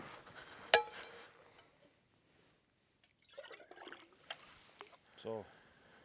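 Water is poured outdoors on a Lapland trek, a soft trickle and splash that rises partway through after a sharp knock, with people talking in Swedish around it.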